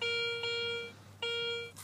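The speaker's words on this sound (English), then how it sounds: "The detector finally stopped beeping on me" Two sharp electronic beep tones from a metal detector, each a steady pitched tone lasting under a second with a short gap between, close and fairly clear over low background noise.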